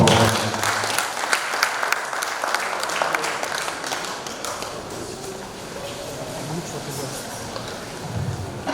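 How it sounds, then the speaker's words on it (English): An audience in a hall at a book presentation event applauds, with dense, sustained clapping that eases slightly midway, as voices murmur underneath. "Please let's have a round of sound of applause"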